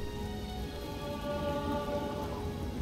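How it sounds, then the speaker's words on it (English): Rain falling in the video game The Elder Scrolls IV: Oblivion: a steady, soft patter of raindrops with faint thunder-like rumble underneath, constant and even throughout with no voices. "Holy crap, still raining."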